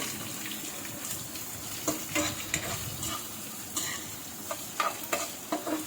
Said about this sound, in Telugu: సో పోపు, ఉల్లిపాయలు 2 కలిపి అలా ఫ్రై అవుతాయి.